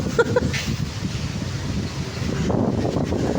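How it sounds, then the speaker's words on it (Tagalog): Strong typhoon wind in Angeles City buffets the microphone with a steady rumbling roar that rises toward the end, loud and close, with no speech over it. "Lakas ng hangin dito, oh."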